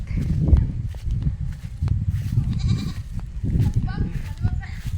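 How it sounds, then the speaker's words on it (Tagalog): A goat on a farm bleats several times, calling for its companions, amid shuffling footsteps and people talking nearby, the calls rising above the busy, close background. "Maingay si Bayad. Naghahanap ng kanyang kasamahan. Kanding house."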